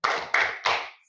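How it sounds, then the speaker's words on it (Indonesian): A classroom group claps together in three quick bursts, each a sharp crackle of many hands fading over about a quarter second, fairly close and with no talking. "Tepuk salut untuk kelompok 4."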